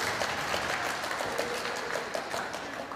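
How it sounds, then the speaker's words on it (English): Audience applauding for state participants at a send-off event, a steady, dense wash of clapping from a crowd that holds evenly for the whole stretch with no voices over it. "big round of applause for all of our state participants."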